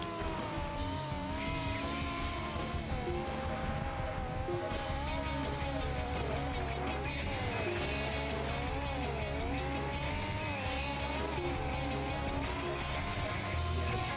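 Racing trucks in the Excite Truck video game roar continuously, engine pitch climbing and dipping with gear changes and tire squeals over a steady game soundtrack, loud and without voices.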